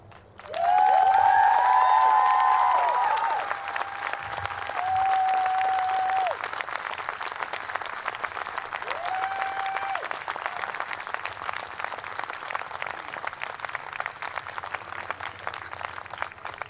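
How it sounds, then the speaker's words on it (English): A crowd at a Black Lives Matter unity rally in Lakewood bursts into loud, sustained applause mixed with cheers and whoops, then settles into steadier clapping that carries on at a lower level. "I haven't even started yet, you're clapping?"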